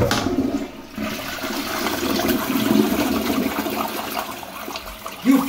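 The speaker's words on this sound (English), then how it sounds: "All I did was flush the toilet." A toilet flushing nearby, with a steady rush of water that swells, churns for several seconds and then drains away, with no voices over it.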